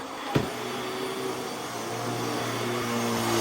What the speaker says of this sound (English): I barely pushed the vacuum.